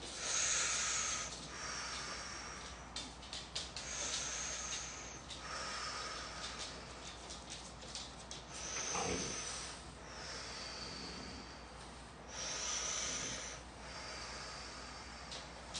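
Slow, audible breaths during a rib cage release exercise, with soft airy inhales and exhales repeating in a steady rhythm, close and quiet with no talking.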